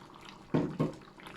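Tamarind vinegar is poured into a bolognaise sauce in a home kitchen, two short liquid splashes close by in an otherwise quiet moment.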